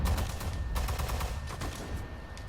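Assault gun and machine gun fire in the Sudden Strike 4 strategy game on PS4 Pro: rapid, continuous bursts of shots, dense and fairly loud, with no pause across the stretch.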